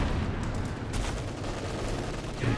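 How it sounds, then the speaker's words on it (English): An artillery barrage in the video game Company of Heroes 2 on a retreat point, a dense continuous rumble of explosions and gunfire, loud and unbroken, with a heavier thump at the end. "yeah, another barrage onto the retreat point"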